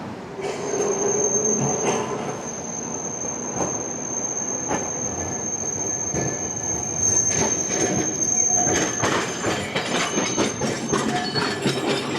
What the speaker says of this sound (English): there's a tram coming from the right side